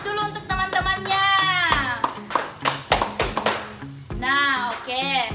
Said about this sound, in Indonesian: Coba beri aplaus dulu untuk teman-temannya